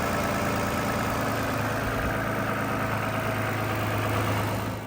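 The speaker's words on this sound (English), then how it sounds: "It's idling." A Toyota RAV4 engine idles steadily right after new spark plugs and coil packs were fitted, giving an even, continuous mechanical hum with a low rumble throughout and no talking.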